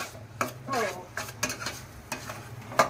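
Chopped tomatoes for pav bhaji sauté in a pan, a close, soft sizzle broken by repeated stirring scrapes and light spatula knocks at an irregular pace.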